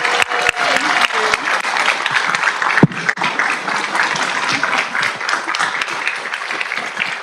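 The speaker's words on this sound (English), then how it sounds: "round of applause." A city council meeting audience gives steady applause to an honored citizen, continuous dense clapping with a few sharp, close claps and faint voices mixed in throughout.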